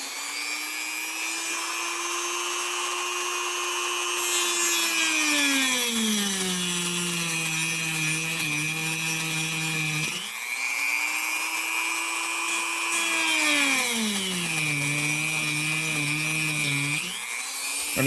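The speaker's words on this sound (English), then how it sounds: "it's real easy with the cutting wheel." A cutting wheel on a rotary tool slices through the plastic front arm of a TLR 22 5.0 RC car, giving a steady high-pitched whine that drops in pitch as it bites into the part, then rises again, twice over.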